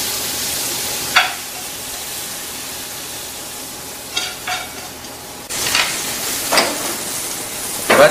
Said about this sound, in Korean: 도라지를 볶아서 접시에 담아주시고요.